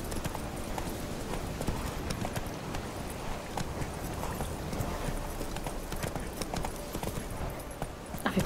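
A horse's hooves clip-clop in a steady, continuous rhythm as the rider travels along in The Witcher 3: Wild Hunt, heard at moderate level throughout.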